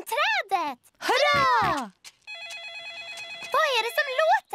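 Mobile phone ringing in a Peppa Pig cartoon, a bright electronic warbling ring that comes in partway through, mixed with animated characters' grunting voices and talk before and over it.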